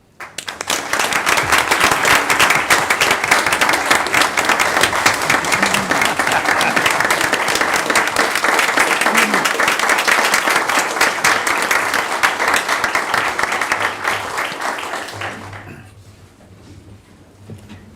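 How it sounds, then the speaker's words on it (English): An audience at a city board meeting applauds in a loud, sustained round of clapping lasting about fifteen seconds before fading out to quiet room noise. "I think we all ought to give her a round of applause"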